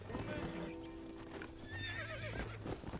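Horse in the video game Red Dead Redemption, a close whinny and snorting over clip-clop hoofbeats, with a second neigh toward the end, fairly faint overall.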